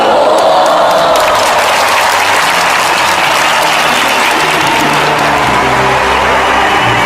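Loud, continuous applause with some cheering from a large crowd greeting gold medalist Carlo Yulo, a steady dense clatter of clapping hands throughout.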